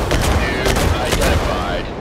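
Rapid bursts of gunfire from mech weapons in the video game Mech Arena, dense and continuous with several heavier thumping volleys, loud and close throughout.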